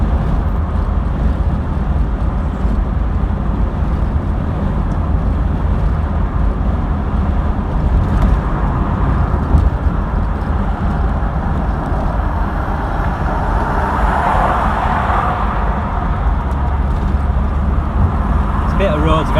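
A 1986 mk2 Vauxhall Cavalier accelerating on a road, a steady low engine drone with road rumble heard from inside the cabin throughout, while someone talks over it.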